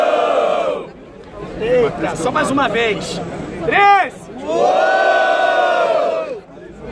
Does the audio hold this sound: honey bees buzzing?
no